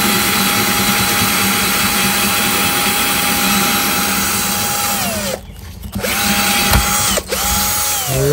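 A power drill bores drainage holes in a homemade bonsai pot, whining loudly and steadily, then briefly stopping and restarting twice near the end, with no voices.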